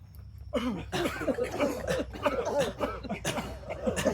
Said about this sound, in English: Cough the stale chi, the dirty chi.